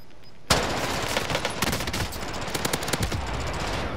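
Automatic gunfire in Call of Duty: Warzone erupts suddenly and continues as a dense, rapid stream of close, loud shots with brief uneven gaps, no talking over it.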